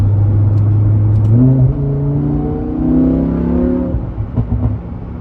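A Lamborghini engine drones steadily while the car is driven, a deep sustained tone that rises in pitch as it accelerates, then eases with a few faint clicks toward the end; no one speaks.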